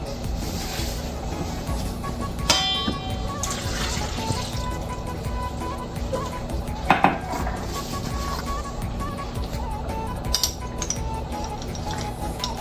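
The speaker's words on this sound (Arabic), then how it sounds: "أول شي راح نحط التين، بعدين راح نحط حليب وخميرة" Flour, milk and yeast going into a mixing bowl for manakish zaatar dough, with scattered clinks of utensils against the bowl and soft pouring of liquid over a steady kitchen background.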